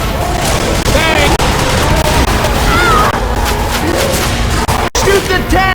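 Gunfire in Left 4 Dead 2 rattles hard and close as survivors shoot at the Tank, dense volleys of shots and booms overlapping with shouting voices and a brief dropout near the end.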